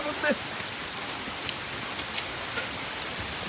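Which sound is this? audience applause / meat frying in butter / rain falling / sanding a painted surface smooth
rain falling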